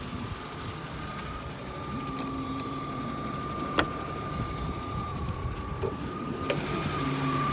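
A 1995 BMW 320i with its 2.0-litre engine idling and the hood open, a steady low hum with a faint high whine and a few light ticks, moderately quiet and with no talk.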